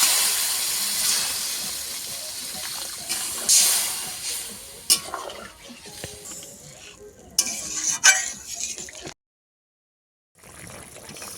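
Fish curry gravy with potato and eggplant cooking in a pan, a steady hiss and bubbling with scrapes and stirring clinks, brief louder moments, then a short silence before the sound resumes.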